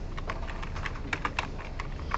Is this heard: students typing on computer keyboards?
yes